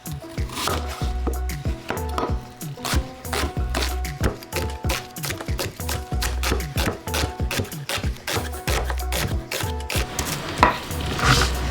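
A knife chops an onion on a cutting board for beef curry, a fast steady run of sharp, close-up thuds that keeps going throughout.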